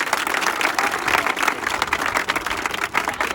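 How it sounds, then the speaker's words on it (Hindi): Loud, dense applause from a crowd at an Indian Army training session, an even rush of many clapping hands sustained from start to finish. "तालियां एक बार जोरदार।"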